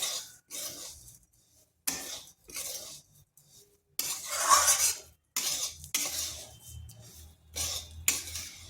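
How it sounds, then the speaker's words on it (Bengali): Semolina, sugar and carrot being fried and stirred in a pan, heard as repeated bursts of spoon scraping and rattling against metal, separated by short pauses, close and fairly clear, with no talking. "এরপর আবার কিছুক্ষণ ভেজে নিচ্ছি। চিনি, সুজি আর গাজর যাতে একসাথে মিশে যায়।"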